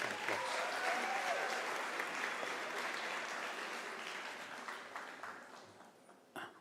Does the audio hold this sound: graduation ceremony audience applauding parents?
yes